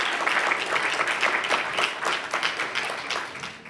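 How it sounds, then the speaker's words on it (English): A crowd at a Juneteenth event applauds a group of young men, giving steady, dense clapping that goes on throughout with faint voices underneath. "give them a great applause that they deserve"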